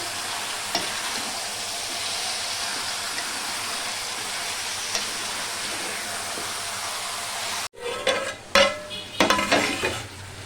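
Chicken curry ingredients, chopped tomato among them, stirred together in a frying pan: a steady loud sizzle runs throughout, then near the end it drops sharply and gives way to bursts of scraping and stirring.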